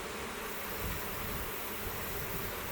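Agitated honey bees being moved into full-size hive boxes, a loud, thick, continuous buzzing very close by with no voices over it.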